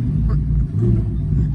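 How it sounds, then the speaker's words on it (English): A car engine rumbling loudly at close range, its low growl rising and falling as it is revved during a downshift, with no clear speech. "Downshifts is crazy."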